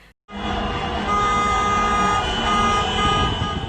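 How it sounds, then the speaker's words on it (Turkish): Loud, sustained horns blare together almost continuously, several car and truck horns honking in a street celebration in a steady chorus close by, with traffic noise beneath. "Bazı vatandaşlar kornaya basarak araçlarıyla tur atarken"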